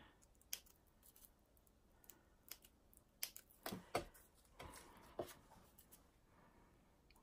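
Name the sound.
embroidery scissors cutting crepe paper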